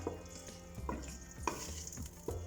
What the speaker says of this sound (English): We'll just give that a good stir.